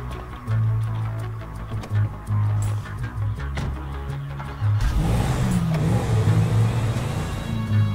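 A stolen car drives in a video game, its engine humming and surging in repeated revs before a louder, sustained acceleration with tire and road noise. No one speaks.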